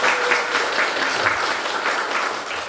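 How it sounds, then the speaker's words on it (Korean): An audience at a Korean lecture and performance event gives sustained, even applause, with dense clapping filling the room at a steady level throughout. "다시 한번 박수 보내주시기 바랍니다."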